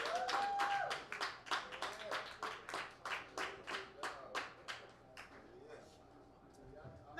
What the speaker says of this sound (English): Another round of applause for Mr.